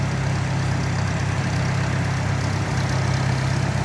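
A 1950 International Harvester Cub tractor engine idles steadily, a close, loud, even low rumble throughout with no talk.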